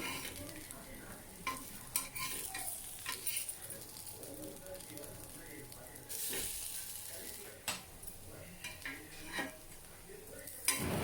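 Raw banana chops sizzle steadily in frying oil while a spoon turns them, giving repeated scrapes and clinks against the pan. A person talks over the sizzling.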